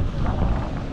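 A fishing boat heads out on the Pacific Ocean while strong wind buffets the microphone in a steady, loud rush with low rumbling gusts throughout.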